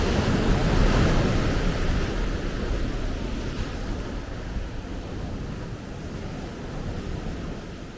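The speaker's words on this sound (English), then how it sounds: "the waves are literally coming up to the" Ocean waves at Laguna Beach washing up near beach steps, a loud surf rush that swells early then settles into a steady roar, with wind buffeting the microphone.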